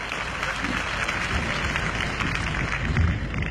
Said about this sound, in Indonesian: Tepuk tangan untuk Saudara Yanuar Rizky Pahlevi.